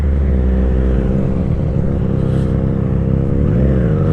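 Yamaha MT-09 and Triumph Street Triple RS naked sport motorcycles on an Indian road, engines close and loud with a steady throbbing idle and a rising rev toward the end.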